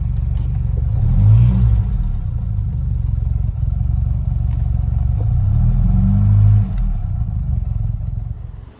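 A Ford Capri with a 2.0 Pinto engine, started after days of standing using a manual fuel pump, settles into a loud, low rumbling idle with two strong revving swells.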